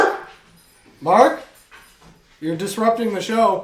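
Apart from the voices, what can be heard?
dogs barking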